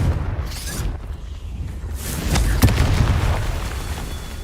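Confringo blasting spell detonating in Hogwarts Legacy, heard as rumbling booms with a sharp bursting crack in the middle, set against low game ambience.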